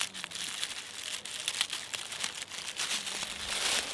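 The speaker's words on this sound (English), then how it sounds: "So you want to cut the handles off first." Scissors cutting the handles off a paper bag: crisp crinkling and rustling of paper with sharp little snips scattered throughout, close and fairly quiet.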